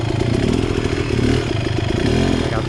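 An X-Trainer motorcycle engine runs at low speed with the clutch partially pulled in, giving a loud, close, steady throbbing drone with a rattly edge and small surges, and no voices.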